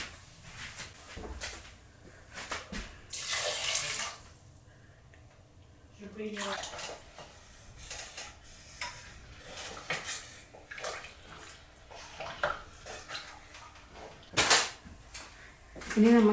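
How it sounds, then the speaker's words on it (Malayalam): Hot water is poured into a pot of rice for yellow rice, heard as intermittent splashing bursts mixed with clunks of utensils and cookware, fairly faint and close. "ഇനി നമുക്കിതിലേക്ക് വെള്ളം ഒഴിക്കാം."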